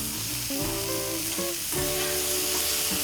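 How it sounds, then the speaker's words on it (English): Ahi tuna sears on a hot barrel barbecue grill with a loud, steady sizzle that lasts throughout, while music plays underneath. "we're going to take some ahi tuna here. We're gonna sear it."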